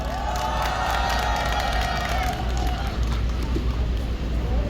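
Outdoor crowd at a Korean political rally against medical policy, with cheering and clapping under steady loud background noise throughout.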